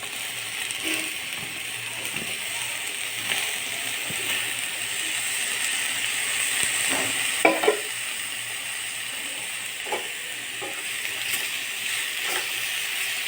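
Raw banana slices fry in a spiced mixture seasoned with salt and turmeric, making a soft, steady sizzle with occasional scraping and stirring clicks and no talk.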